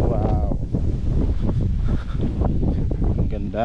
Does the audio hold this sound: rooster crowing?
no